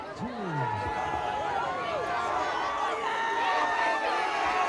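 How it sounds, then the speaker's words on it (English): A cold-night high school football crowd at Durfee vs. Brockton cheers steadily, a broad sustained roar with scattered voices and whistles rising over several seconds. "that gets the crowd going"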